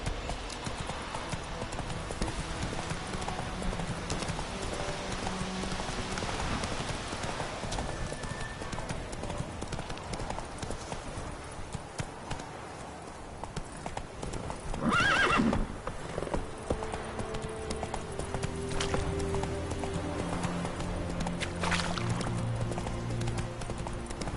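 Galloping horse hooves clip-clop in a steady, continuous rhythm in The Witcher 3, with an occasional neigh over ambient game sound and a brief spoken word.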